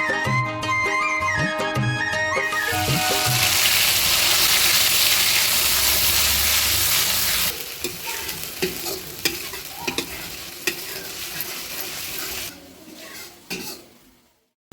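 Garlic, asafoetida, cumin and ground spices hit hot oil in a pan and fry with a loud, steady sizzle that later thins into crackling and stirring sounds before fading out.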